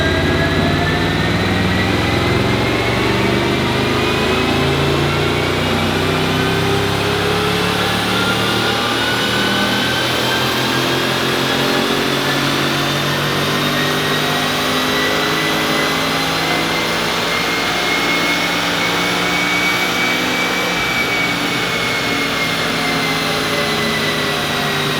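An Audi S4 with a 4.2L engine and Stage 1 tune runs on a dyno, a loud, continuous engine roar whose pitch climbs and sweeps steadily over the full pull, with no talking.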